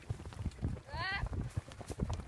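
Horse hooves clip-clopping in a steady rhythm under a lively mix of nearby talk and a brief high vocal sound.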